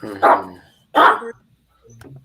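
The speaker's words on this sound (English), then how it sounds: "There's a dog. Hearing the dog." A dog barks twice, loud and close, in sharp separate woofs, followed by a softer trailing sound.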